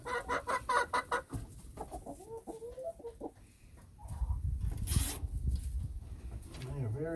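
Chickens cluck and murmur inside their coop, with rhythmic clucks at first, then softer calls over a rising rumble of handling noise and a brief scraping burst.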